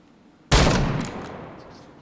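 A gunshot in the PointBlank first-person shooter game cracks out sharply after a quiet moment, with a loud burst trailing off into a decaying echo over about a second and a half.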